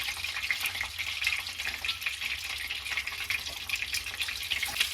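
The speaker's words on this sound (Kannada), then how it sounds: "ಎಲ್ಲ ಕಡೆ ಚೆನ್ನಾಗಿ ಫ್ರೈ ಮಾಡ್ಕೊಳ್ತೀನಿ" Cut boiled eggs fry in oil in a pan for egg curry, producing a steady, close, bright sizzle with fine crackling throughout and no voices.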